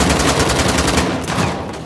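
Rapid automatic gunfire in Uncharted: The Lost Legacy: a dense stream of loud, close shots rattles for over a second, then thins out as the volley trails off.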